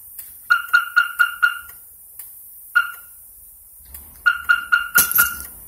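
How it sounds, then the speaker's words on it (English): A car alarm chirps in quick bursts of repeated electronic beeps, pausing and then resuming, fairly loud and close with no talking. "Put an alarm on the car."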